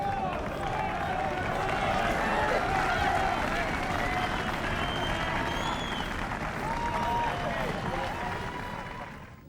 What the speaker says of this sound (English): I'm just wondering how this crowd is going to keep up this cheering